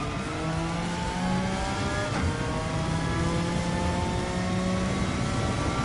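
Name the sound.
race car engine revving up through gears, Gran Turismo 7 video game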